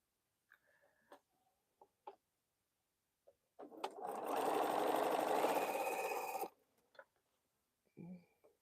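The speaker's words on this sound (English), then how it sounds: "So I'm just going to sew until I run out of squares that are the same size here." A sewing machine stitches quilt squares in one steady run of about three seconds, a close whirring hum framed by scattered clicks and handling taps before and after.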